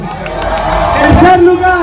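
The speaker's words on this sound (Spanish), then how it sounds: "Venga ese aplauso, Vallarta." A lively crowd cheers and claps loudly at a downhill bike race in Puerto Vallarta, with whoops and a voice over a microphone rising above the noise.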